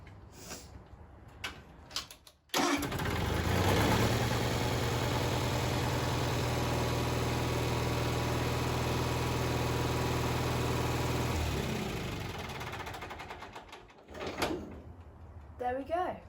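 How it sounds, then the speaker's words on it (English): A 1974 Bolens HT20 garden tractor engine starts after a few cranking clicks and runs steadily with a loud, even drone for about nine seconds, then cuts out, with talk around it. "we've brought the tractor outside and we've been letting it run for a while"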